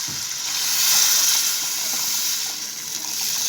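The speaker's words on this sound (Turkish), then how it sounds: "Şimdi de içerisine suyumu ekliyorum" Water poured into a pan of sautéed potatoes and carrots hisses and sizzles steadily, a broad close crackle that swells briefly and then settles into a continuous simmering rush.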